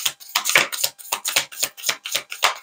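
Playing cards are shuffled in quick, evenly spaced riffling bursts, close and crisp, about a dozen rustles with no voices.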